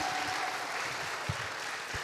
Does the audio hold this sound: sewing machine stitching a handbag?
no